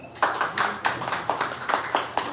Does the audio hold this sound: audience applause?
yes